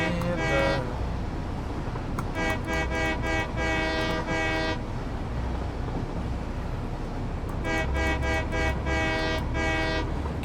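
A locomotive in Satisfactory rumbles along steadily while its horn sounds in two long bursts, one near the start and one toward the end, with wheels clacking underneath throughout.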